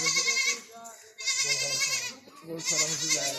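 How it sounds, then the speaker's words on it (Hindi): A Rajanpuri Gulabi goat on a Pakistani farm, bleating close and loud in three long wavering calls separated by short gaps. "ये होती है मैन गुलाबी, पाकिस्तान का नंबर 1 मशहूर बकरा।"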